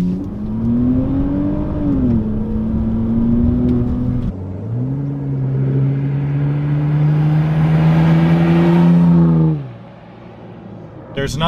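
A 2011 Saab 9-5 Turbo6 pulls hard under full throttle, its engine note climbing steadily through the gears with a brief dip at a shift, loud and close from inside the cabin before easing off near the end.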